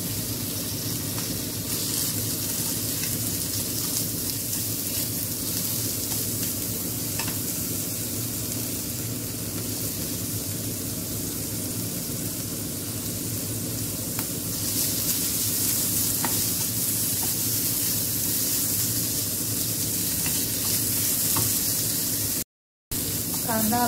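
Finely chopped onion fries in a pan with a steady, bright sizzle that continues throughout, with occasional stirring scrapes and a brief dropout near the end.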